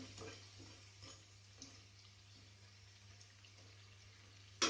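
Sabudana vada, sago-and-potato fritters for a Navratri fast, sizzle faintly in hot oil, a soft steady crackle with light stirring over a low hum and no speech.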